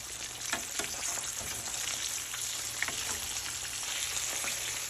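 A pork chop that has just been flipped fries in a pan with a steady, close, crackling sizzle and scattered pops throughout. No one speaks.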